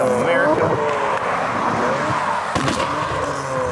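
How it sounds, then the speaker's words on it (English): Cars pass loudly on a road, engines roaring and whining with shifting pitch as they go by close one after another, while people talk over the noise. "Freaking car's coming. This is gonna be loud."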